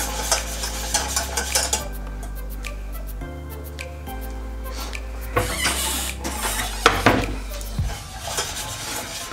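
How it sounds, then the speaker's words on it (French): Lemon cream stirred in a saucepan on the stove: a utensil scrapes and taps against the pan with a low background hum, close and fairly loud, no one speaking. "On va bien faire attention de toujours remuer pour pas que ça accroche"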